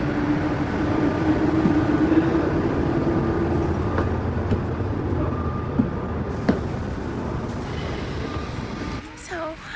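Steady rumble and rattle of a train ride in Paris, with a constant low drone, an occasional squeal and clack, and quiet background voices; the noise eases near the end.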